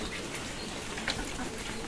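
Steady rain falls in a continuous hiss of drops on a surface around a pigeon loft and poultry yard, even and unbroken, with a faint bird call briefly audible.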